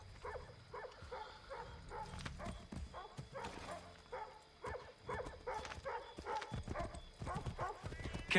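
Steady clip-clop of horse hooves at a trot with an occasional whinny, under game music and ambient noise, fairly close, in Assassin's Creed 3.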